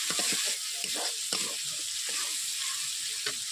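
Chopped tomatoes with a pinch of salt fry in hot oil in a kadai, a close, steady sizzle broken by a few scraping stirs.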